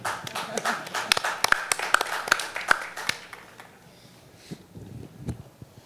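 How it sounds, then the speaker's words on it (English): Delegates at an assembly meeting give brief scattered applause, a few sharp claps standing out, fading after about three seconds into quieter room noise with a couple of later taps. "Yeah, you can applaud."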